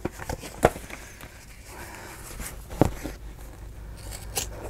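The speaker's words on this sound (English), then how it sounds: "I have my sewing scissors here." Sewing scissors snip the corners off paper for a journal cover, giving a few sharp close clicks and crisp cuts over a low steady room hum.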